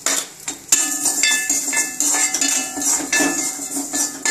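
Spices roasting in a pan for tamarind rice paste, with steady metallic scraping and clinks of a utensil against the pan and a soft continuous sizzle underneath, close and moderately loud.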